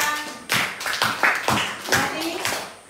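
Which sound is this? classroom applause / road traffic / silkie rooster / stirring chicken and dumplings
classroom applause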